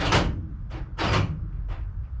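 Mercedes Sprinter van door locks actuate four times in quick succession, sharp mechanical clunks alternating between louder and softer, close by with a steady background hum.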